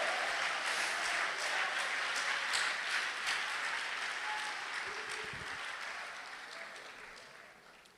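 A church congregation applauding during a worship service: dense, steady clapping fills the hall, then gradually fades as it tapers off.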